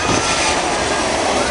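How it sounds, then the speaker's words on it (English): A Boeing 757 jet comes in to land low over a beach on St. Martin, its engines a loud, close, continuous roar with a voice faintly underneath. "This is a Boeing 757."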